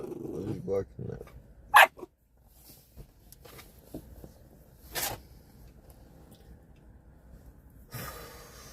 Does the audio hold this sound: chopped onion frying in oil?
no